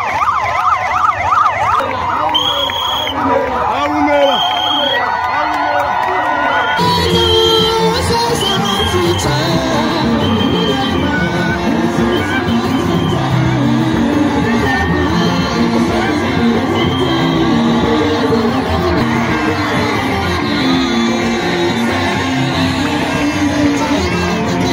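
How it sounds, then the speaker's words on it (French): Loud, dense crowd roar of applause and joyful shouting at a church convention in Okitodimba as a bishop makes his entrance, sustained throughout with voices and a high whistle-like tone riding over the clamor. "fait son entrée sous un tonnerre d'applaudissements et de cris de joie"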